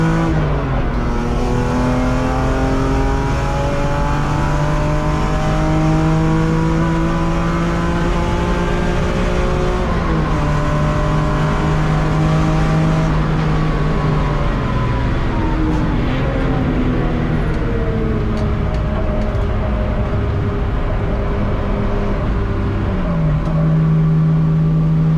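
A BMW race car accelerates hard up the straight at Hampton Downs during enduro qualifying, its engine loud and close from inside, with rising tones through several gear changes and a steady droning roar throughout.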